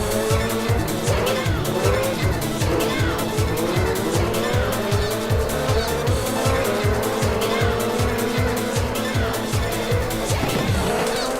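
An IndyCar race car in a racing video game roars at a loud, steady pitch, with its tires squealing continuously as it takes a turn onto a long straight.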